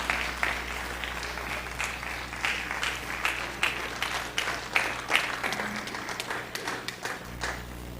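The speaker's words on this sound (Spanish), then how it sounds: "póngase de pie, denle un aplauso al Señor" A church congregation on its feet applauding for the Lord, a dense, steady wash of many hands clapping with rhythmic surges, fairly soft over a low hum.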